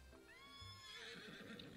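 A horse in a video game gives a long, rising-and-falling whinny with a faint clip-clop of hooves, quiet and fairly close with no talking.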